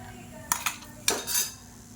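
A metal spoon clinks and scrapes against a pan and a mixer jar while fried chutney ingredients are moved across, giving a few sharp close taps and a short scrape over a steady kitchen hum.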